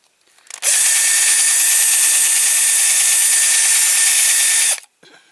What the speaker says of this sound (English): I might have to drill a little bit more.